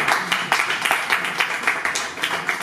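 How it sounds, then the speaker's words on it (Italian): Applause from a small crowd at a motor racing paddock interview: dense, rhythmic clapping close by, steady for a few seconds with a voice faintly underneath. "Bravo, un bel applauso."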